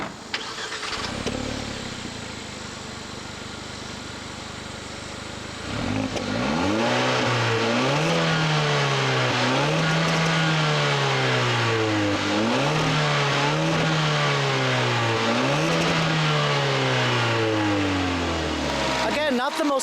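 A 2017 Kia Forte5 SX Turbo hatchback starts and accelerates through several gears, rising whine-like pitch sweeps repeating with each shift, loud and close, after a quieter idle at first.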